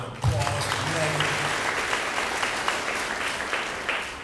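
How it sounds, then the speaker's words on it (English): Audience applause at a county Board of Education meeting honoring a school district administrative assistant, a steady wash of clapping from a seated crowd lasting several seconds, with a low voice briefly audible at the start. "a round of applause for Megan"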